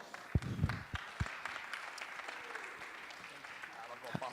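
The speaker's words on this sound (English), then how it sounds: "Give her a big round of applause" Audience at a live podcast show in 2019 breaking into applause, with a few sharp loud claps at the start before settling into steady, moderately loud clapping that carries on to the end.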